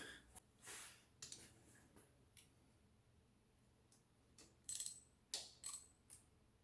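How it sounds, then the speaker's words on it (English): A hand ratchet snaps bolts tight during an engine rebuild near an idler and tensioner, with scattered clicks and short bursts of sharp ratcheting, close by, growing busier toward the end. "Now I'll go back over and hit these with a ratchet right quick."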